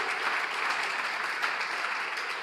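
A crowd applauds at a teachers' college anniversary celebration, dense even clapping held at a steady level for the whole stretch with no voices.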